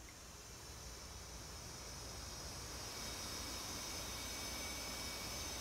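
An F/A-18C Hornet in DCS World, landing on an aircraft carrier deck, gives a steady, hissing jet roar that grows slightly louder, with no voices over it.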